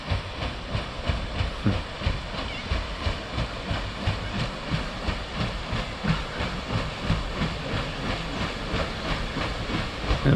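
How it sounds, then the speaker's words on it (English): The Canberra paddle steamer on the Murray River chugs nearby, a steady rhythmic thumping of the paddle engine, roughly two beats a second, over a constant steamy hiss, with no talk. "It looks like the Canberra, which is the paddle steamer that we were on yesterday."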